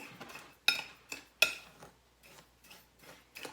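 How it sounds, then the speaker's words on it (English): Small 1/8 scooper mixing washing soda and Epsom salt in a bowl, with sharp scraping clicks and taps against the bowl at an uneven rhythm, close and fairly clear. "we're going to give that washing soda and Epsom salt a good mix"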